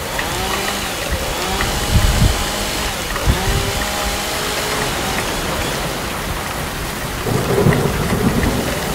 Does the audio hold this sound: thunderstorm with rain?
yes